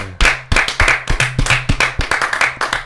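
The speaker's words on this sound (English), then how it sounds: "Let's get a round of applause" A few podcast hosts clap close to the microphone, sharp separate hand claps in a quick, uneven rhythm that runs for a few seconds, loud and dry in a small room.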